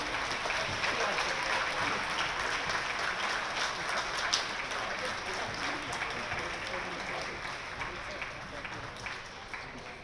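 A crowd in a high school gym applauds during senior recognition at a Peters Township girls basketball game against Mt. Lebanon, with a steady wash of clapping that fades slightly over ten seconds.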